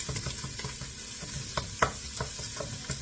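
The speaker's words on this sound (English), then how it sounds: "Now I'm putting my onions in my pan to get those going." Onions frying in a pan at home, a soft steady sizzle with light stirring scrapes and a few sharper clicks of a utensil against the pan, fairly quiet and close.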